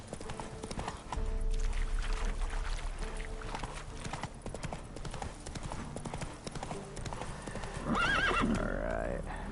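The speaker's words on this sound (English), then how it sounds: "Run, Roach. Come on, Roach" Horse hooves clip-clop at a gallop with a loud whinny near the end in The Witcher 3, heard over steady game background sound.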